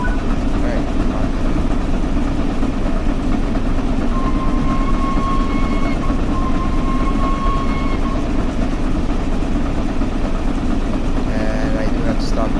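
Flying Scotsman steam locomotive running at speed, a loud, steady rumble and rattle of machinery with faint whistle-like tones riding over it; a voice speaks over the noise.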